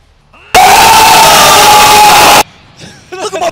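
A crowd at a fighting game event erupts into a loud, sustained roar of screaming and cheering for about two seconds, then cuts off to scattered voices and shouts.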